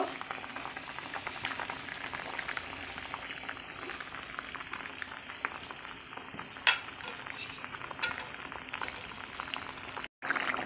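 Fried bitter gourd and tomato go into a frying pan of potato and peas, bringing a steady, moderate sizzle with light crackling and a brief sharp clink midway.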